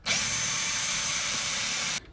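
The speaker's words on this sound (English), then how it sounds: "Now we're going to drill again." A power drill bores into a vintage Transformers G1 Magnus and Prime power punch fist connector accessory. It gives a steady, close, high-pitched whine for about two seconds, then cuts off abruptly, with no speech.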